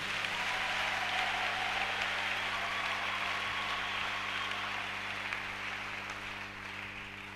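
A church congregation claps and cheers in praise of the Lord, a steady dense wash of applause and crowd noise at constant loudness throughout, with no clear speech on top.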